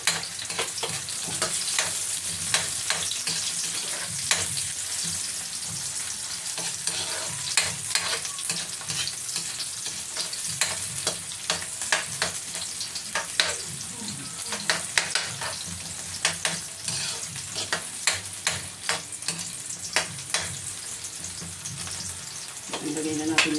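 Chopped bottle gourd (upo) hits a hot pan with onions and fries with a steady, crackling sizzle, punctuated by frequent sharp scrapes and clacks of stirring throughout.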